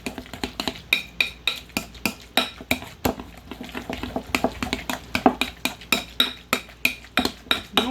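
Homemade guacamole stirred in a bowl, heard as a rapid, steady run of sharp clicks and scrapes of a utensil against the bowl, close and clear, with no voices.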